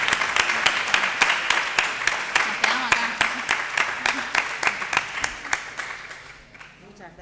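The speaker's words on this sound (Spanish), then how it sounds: "Hacemos otro aplauso para terminar la charla." An audience at a university agricultural and environmental sciences conference applauds to close a talk, with steady, fairly loud clapping that fades toward the end while a voice speaks briefly over it.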